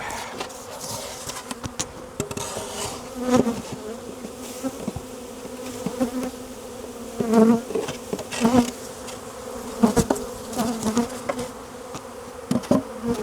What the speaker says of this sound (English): in here we have a load of bees